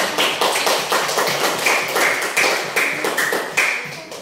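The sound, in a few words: applause, clapping for a group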